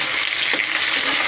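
Bay leaves and chopped onion frying in oil for Bengali mutton kosha, a loud, close, continuous sizzle with a brief stirring scrape midway and no voices.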